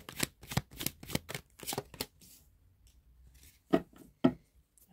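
Tarot cards riffle and snap through a shuffle in a quick run of crisp bursts, then after a quiet pause two single cards are drawn from the deck with soft slaps, close and without talk.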